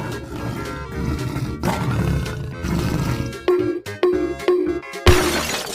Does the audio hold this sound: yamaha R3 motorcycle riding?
no